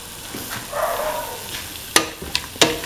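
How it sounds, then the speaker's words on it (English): Peas being stirred into a tomato and winter melon mix, with soft scraping and a faint sizzle, followed by three sharp, close clinks of a utensil against the pan near the end. "Mix in the green peas with the rest of the mixture."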